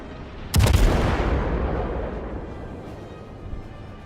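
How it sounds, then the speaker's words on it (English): A heavy naval gun salvo from the cruiser Ashigara fires armor-piercing shells in a warship video game: one sharp, loud boom followed by a long, rolling rumble that slowly fades. "So we're gonna fire armor piercing in the next salvo."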